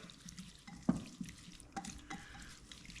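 Cilantro being stirred into a soy, wine and lime sauce in a bowl, with soft wet sloshing, a sharp clink of the utensil early on and a few quieter taps, all faint and close.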